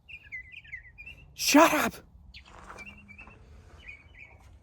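A small bird chirps in short high tweets scattered through the clip, with a loud burst of shouting in the middle and quieter talk after, all over a low background rumble near a car with a carburetor problem.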